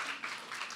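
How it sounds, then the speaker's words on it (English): A small group claps during a talk-show style chat about reality TV, a brief burst of soft, fairly distant applause. "Let's clap if we love Lindsay and Danielle getting along."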